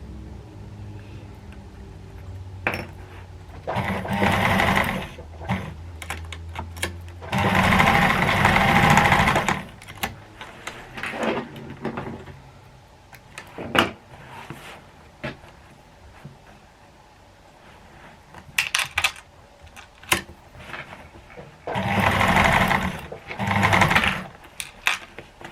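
A sewing machine stitches a cottage garden handbag, running in short, close bursts that start and stop repeatedly as the seam is sewn forward and reversed back, with quiet pauses in between.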